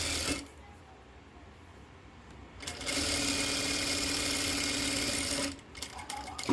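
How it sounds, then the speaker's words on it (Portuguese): A sewing machine runs in short bursts while stitching along a fabric edge to bind a hem, with a steady close whirring hum and a quieter pause between runs. "Venho costurando na beiradinha"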